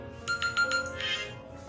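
A mobile phone rings with an incoming call, a short melodic ringtone of four quick repeated tones followed by a brief chime, heard fairly close and clear.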